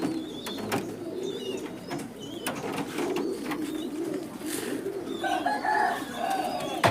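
Pigeons, roughly two months old and including a breeding pair, coo repeatedly in a busy setting, soft throaty calls layered over a constant background hum and scattered higher chirps, with no talking.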